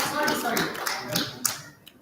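People clap for attendees who have received the HPV vaccine at an adolescent health forum, a short scattering of sparse claps under ongoing speech and voices.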